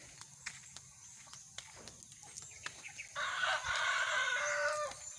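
A rooster crows loudly nearby, a long drawn-out call rising over scattered clucks and faint rustling footsteps in the background.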